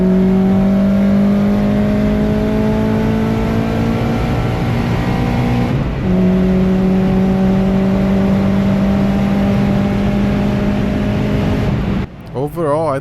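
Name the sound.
car accelerating out of corners on race track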